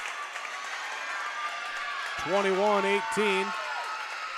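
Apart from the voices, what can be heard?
student section cheering at a volleyball game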